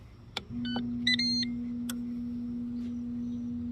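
A woodfire pellet grill powers on after its start-stop button is pressed, giving a few short electronic beeps and chirps over a steady low motor hum that continues at an even level.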